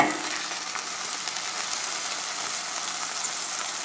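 Sausage frying in a pan as its fat renders out, a steady close sizzle with crackle that holds even and unbroken throughout, with no voices.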